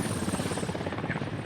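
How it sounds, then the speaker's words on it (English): A helicopter hovers overhead during a desert air-assault battle in a military video game, its rotor making a steady, rapid chopping buzz that stays at an even level throughout. "there's a helicopter above him right now"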